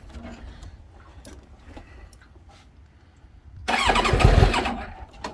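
A Kawasaki ZX7R motorcycle with a 6 Sigma jetting kit cold-starts after worn fuel hoses and a week unused: faint clicks and handling noises, then the engine suddenly catches with a loud, rough burst that settles slightly toward the end.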